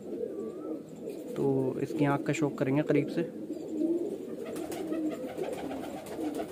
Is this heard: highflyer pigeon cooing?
yes